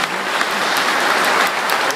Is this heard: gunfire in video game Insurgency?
no